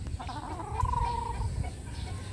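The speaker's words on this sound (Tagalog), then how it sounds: "Ibig sabihin, malaking manok to." A large Bulik chicken with a straight comb clucks in a steady, close run of soft calls while it is being handled, over low background rumble.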